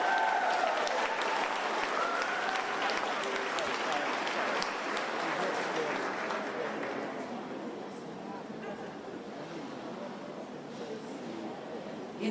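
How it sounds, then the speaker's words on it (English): A crowd applauds at the Adelaide launch of a Yes referendum campaign, dense clapping that holds steady and then thins gradually toward the end. "Please give Shelley a wonderful, rousing applause."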